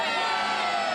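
A large crowd at an outdoor holiday evening event cheers and shouts together, a loud, continuous roar of many voices, brief and close.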